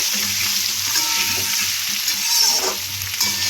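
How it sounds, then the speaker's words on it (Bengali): Potatoes tossed with a little turmeric sizzle and hiss steadily in hot oil for a vegetarian Kashmiri dum aloo, a continuous close frying crackle with faint stirring and no voices. "এবার আলুগুলো ছেড়ে দেবো তেলের মধ্যে। এবার আলুগুলোকে একটু লাল লাল করে ভেজে নেব।"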